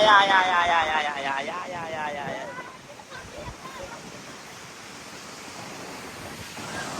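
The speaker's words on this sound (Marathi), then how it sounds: "वारा भरपूर आहे" Strong wind blowing by the sea at Uran on the Maharashtra coast, a steady roaring rush mixed with surf, with voices talking briefly at the start.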